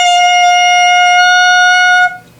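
A clarinet mouthpiece with reed, played alone, gives one loud, steady, high squeal held for about two seconds before it cuts off abruptly.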